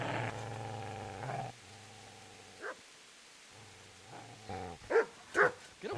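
Dog in Kingdom Come: Deliverance barking and growling, a few short, sharp barks near the end after a stretch of low growling and game ambience, moderately loud and close.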